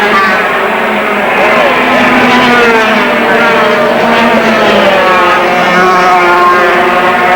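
Grand Prix motorcycles race at the 1987 French round at Le Mans, engines droning and whining continuously as several machines pass, with a broadcast commentator talking over the steady roar.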